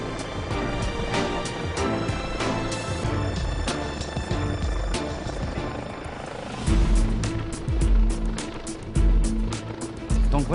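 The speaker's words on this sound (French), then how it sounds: "Donc voilà l'hélicoptère de la gendarmerie." A gendarmerie helicopter hovers at a flight exhibition while a rope is lowered from its winch, its rotor and engine roaring loud, close and steady throughout, with heavier thumping surges near the end.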